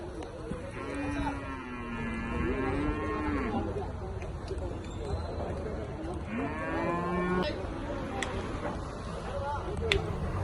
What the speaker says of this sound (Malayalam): നല്ല ഒന്നാന്തരം ഒരു കറവ പശുവിനെ കച്ചവടം കഴിഞ്ഞ് കൊണ്ടുപോകുന്നതാണ്.